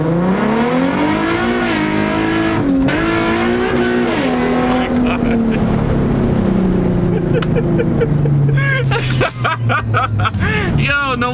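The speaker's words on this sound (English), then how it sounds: "I'm not gonna lie, Rick's car moves really hard" A Nissan 370Z with a swapped Q60 engine accelerates hard, its engine note rising through gears in loud sweeping pulls with brief shift breaks, while people talk excitedly over it.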